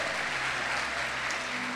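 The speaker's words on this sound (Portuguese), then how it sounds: "dá um aplauso ao Senhor, porque Ele é digno" Steady applause from a church congregation fills the space evenly throughout, a continuous wash of clapping with no voices standing out above it.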